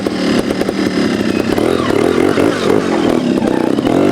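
A two-stroke trials motorcycle engine revs continuously, close and loud, with a raspy buzzing tone that rises and falls slightly in pitch and has no pauses or talk.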